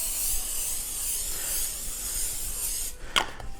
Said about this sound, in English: We gotta spray the big cookie sheet.